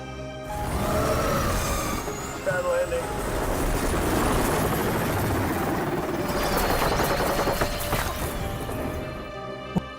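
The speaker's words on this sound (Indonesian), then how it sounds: "Franz memaksa terbang melewati puncak gunung dan akhirnya mesin helikopter meledak." Helicopter engine in a film failing and exploding during a forced flight over a mountain peak, a loud continuous roar of rotor and engine noise with crashing bursts, heard alone.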